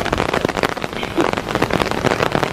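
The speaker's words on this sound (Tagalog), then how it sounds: "Andito na tayo sa Kyoto at kami ay inulan. Ganyan, lakas ng ulan." Heavy rain pours down in Kyoto, Japan, a loud, dense patter of drops striking nearby surfaces, steady and close.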